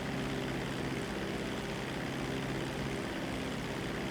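Steady propeller engine drone from a seaplane flying in a video game, a constant even hum holding at moderate loudness without a break.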